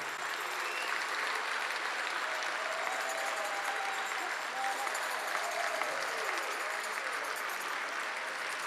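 A concert audience applauds steadily for several seconds in a dense, even wash of clapping, heard at moderate distance.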